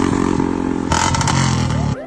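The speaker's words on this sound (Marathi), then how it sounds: "काही मुलं बार्शी शहरामध्ये बुलेट घेऊन फटाका सायलेन्सर" A Bullet motorcycle fitted with a firecracker silencer thumps loudly nearby, its engine note rising and stuttering with sharp popping bursts, while people talk over the noise.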